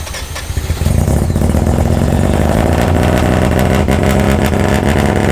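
A rotary engine in a Datsun cold starts: a brief crank, then it catches within a second and settles into a loud, steady, rough-edged idle that runs unbroken to the end.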